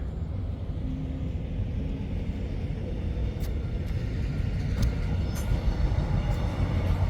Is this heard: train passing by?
yes